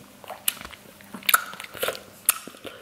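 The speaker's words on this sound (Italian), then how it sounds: "a Pupi ci diamo i croccantini" A pet dog crunches dry kibble close by, several sharp irregular bites and crackly chewing bursts with short pauses between them, no talking.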